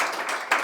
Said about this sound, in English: Round of applause, co-founders.